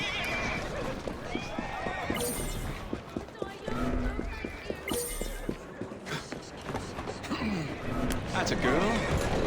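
A horse in Assassin's Creed Syndicate whinnies and clip-clops at a run, its hooves pounding a steady rhythm while someone talks over it amid busy street noise and scattered sharp impacts.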